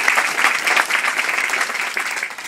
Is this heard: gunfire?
no